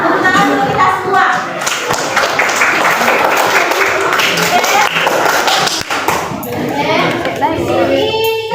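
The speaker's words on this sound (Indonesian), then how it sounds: "tepuk tangan dulu kita semua" A classroom of students claps together during a guidance and counseling lesson, a close, loud burst of uneven clapping mixed with children's voices and thumps, tapering into scattered claps and chatter.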